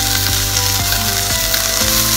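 Chicken breast marinated in olive oil, salt and plenty of pepper sizzles loudly and steadily in a preheated frying pan. The frying is close and continuous with faint periodic ticks and no talking.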